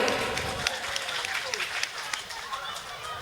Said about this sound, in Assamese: সকলোৱে এটা ডাঙৰকৈ হাত চাপৰি